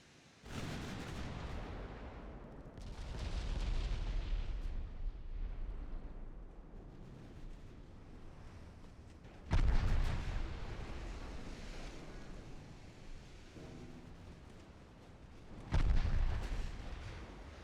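Naval gunfire in the naval battle game Ultimate Admiral Dreadnoughts: deep booming salvos over a constant rumbling sea-like roar, with two sharp louder blasts standing out.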